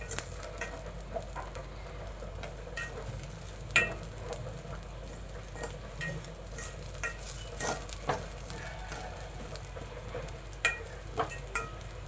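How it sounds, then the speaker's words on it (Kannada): Food being fried in ghee in a pan for a breakfast dish, with a steady low sizzle and frequent light scrapes and clinks of a spoon stirring, close and with no talking. "ನೋಡ್ರಿ ಈ ತರ ಎಲ್ಲ ಹುರ್ಕೋಬೇಕು ತುಪ್ಪದಲ್ಲಿ"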